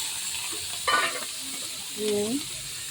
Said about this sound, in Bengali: এবার আমি চিংড়ি মাছটা ভেজে নেবো।